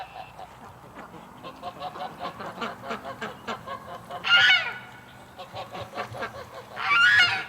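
Doug, a pet duck, gives rhythmic nasal honks in a yard near his duck pen, a quick series of repeated calls punctuated by two louder, harsher honk bursts, fairly close and with no talking.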